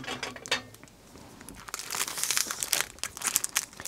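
Crinkling and crunching plastic packaging being cut open with scissors, sharp snips and tearing, growing busier and louder toward the end, close by with no talking.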